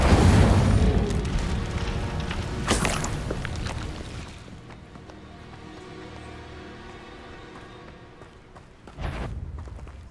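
Incendio fire spell cast in Hogwarts Legacy: a loud burst of flame whooshing up, then a fading crackling rumble, with a second sharp magical hit near the end.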